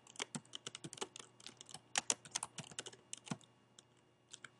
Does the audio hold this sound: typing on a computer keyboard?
yes